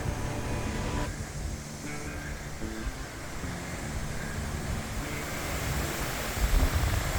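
Wind gusts across a dry creek bed among rock formations in the Flinders Ranges near Arkaroola, a steady broad roar that swells slightly toward the end, with no talking.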